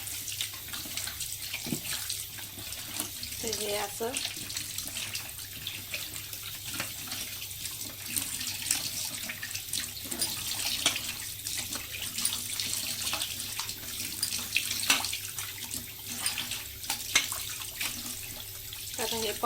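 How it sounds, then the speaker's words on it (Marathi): Water running steadily from a kitchen tap while fish is washed, a constant close splashing rush that continues throughout, with someone speaking briefly over it. "तर मी आता नळ चालू करून घेते"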